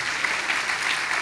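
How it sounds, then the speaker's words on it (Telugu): A church congregation claps together at a temple opening service, a dense, steady burst of applause from many hands filling the whole moment without speech. "చప్పట్లు కొట్టండి"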